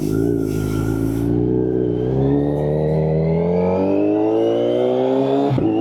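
A motorcycle engine revs up steadily, its pitch climbing over several seconds before cutting off abruptly, close and loud with no speech.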